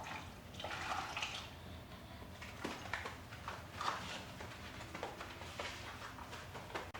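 Water splashed lightly onto floor tiles to dampen the grout lines before grouting, with scattered soft wet splashes and drips, close and moderate in volume.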